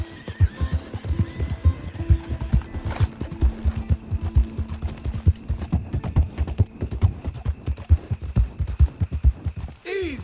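Horse galloping in Red Dead Redemption 2, with rapid rhythmic hoofbeats pounding throughout, close and loud, and a sharp whinny near the end.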